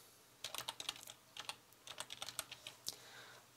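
Quick bursts of keystrokes on a computer keyboard while details are entered into a web form, with crisp, close clicks in uneven clusters and short pauses between them.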